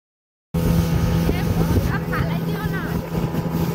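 A speedboat engine drones at Cox's Bazar, cutting in abruptly and then holding a loud, steady roar with water rush and wind buffeting the microphone.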